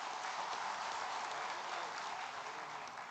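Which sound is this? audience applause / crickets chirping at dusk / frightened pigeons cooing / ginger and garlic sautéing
audience applause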